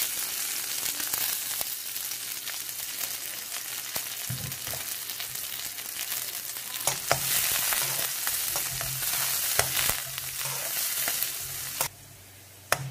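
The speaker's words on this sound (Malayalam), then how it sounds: "നമുക്കതിൽ കടുകിട്ട് പൊട്ടിക്കാം" Mustard seeds, dried red chilies, onions and curry leaves crackle and spit in hot coconut oil for a prawn, mango and drumstick curry, a loud steady sizzle with popping throughout and no talking.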